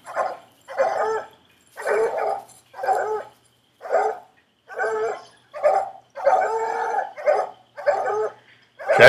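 Coon dogs bark in steady repeated bursts, about a dozen loud, close barks with short gaps between, no talking.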